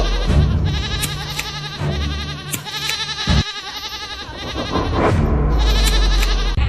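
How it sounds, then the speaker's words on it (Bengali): A goat bleats loudly and repeatedly at night in a Bengali cartoon, several wavering calls in a row, close by with a brief pause midway. "এত রাতে ছাগলের চিৎকার কেন"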